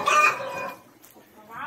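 A hen clucking on a farm, a few quick close clucks at the start that trail off, then a short rising call near the end, loud and clear with no one speaking.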